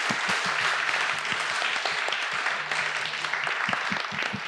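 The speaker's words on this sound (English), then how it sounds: "Another big round of applause for our panelists." A literary festival audience gives the poetry panelists a round of applause, with steady, moderately loud clapping filling the hall throughout and no break.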